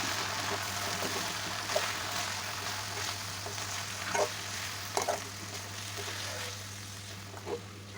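Drumstick leaves mixed with coconut paste in a pan make a low, continuous frying hiss under a steady hum, with occasional scrapes and clinks as the spoon stirs.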